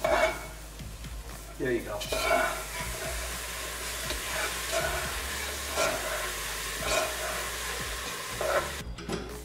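Vegetable stock poured slowly into a roux for tomato bisque, a soft sizzle and steady stirring scrape in a pot, close and continuous, with a brief voice speaking over it.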